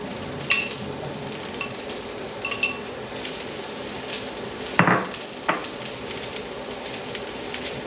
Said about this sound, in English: Add mushrooms. All right, so we stir until brown and tender.